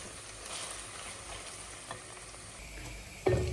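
Onions frying in a pan for beef curry, a steady soft sizzle with faint stirring, ending in a louder burst of activity near the end.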